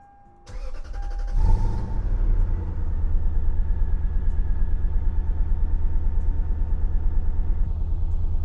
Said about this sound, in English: Now let's turn on the car.